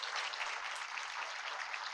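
At a talk on accessibility, an audience gives a round of applause to welcome a sign-language interpreter, a continuous hiss-like patter of clapping, fairly faint and steady throughout.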